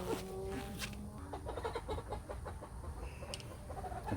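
Chickens cluck softly nearby in a calm farmyard, a loose run of short, choppy clucks and low murmurs with a few sharper calls, the sound quiet and steady with no people talking.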